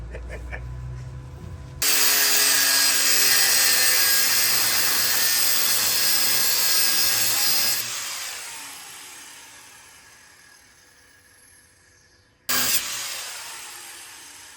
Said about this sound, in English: I think I just cut it with the grinder.